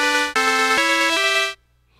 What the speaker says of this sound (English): Or you can go into your FM oscillator